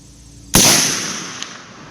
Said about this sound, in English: It's a 250 grain FTX bullet, and we're going to be shooting at 200 yards today.